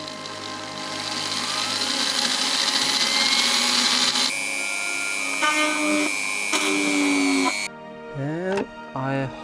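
A power drill bores holes in material for a homemade flat PC case, whining loud and close with a steady high drone, then shifting pitch in stepped bursts that rise and stop as each hole is cut.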